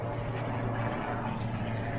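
A steady, droning helicopter hum fills the air from overhead, constant and moderately loud with a low rumbling tone.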